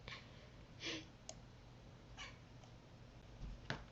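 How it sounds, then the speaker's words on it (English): A house cat makes a few faint, short meows and cries at a distance in a quiet room, with a soft click or two in between and no talking. "Oh no, there's another cat."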